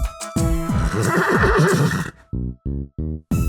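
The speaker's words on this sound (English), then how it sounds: "It's a horse." A horse neighs loudly in a long descending whinny, followed by a few short snorting or nickering bursts, set in a children's learning show about guessing animal tails.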